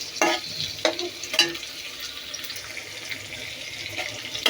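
Onion and tomato frying in oil for prawn korma, a close crackling sizzle with several sharp spatula scrapes and stirring knocks scattered through.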